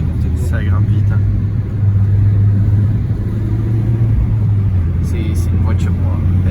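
Peugeot 208 GTI petrol car accelerating, heard from inside as a steady low engine drone that rises slightly and then holds, with occupants talking over it.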